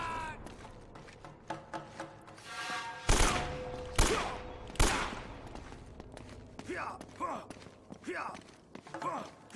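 Three loud, sharp single shots from an AK rifle in the video game Uncharted: Drake's Fortune crack about a second apart against game ambience, with a voice talking afterward.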